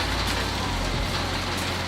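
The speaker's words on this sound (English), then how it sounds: "You can hear the harvester in the background." An olive harvester machine working the Cobram Estate grove gives a steady, broadband mechanical rumble and rushing noise from the background, continuous with no clear rhythm and no voices over it.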